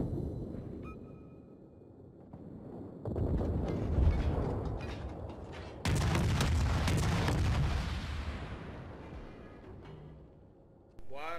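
Naval artillery shells fire from a cruiser in World of Warships, heavy booming blasts with long rumbling decay, one burst after another under a steady mechanical drone, ending with a rising whine.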